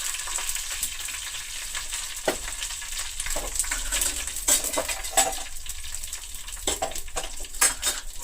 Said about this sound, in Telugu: చూడండి, తాలింపు వేగిపోయింది కదా.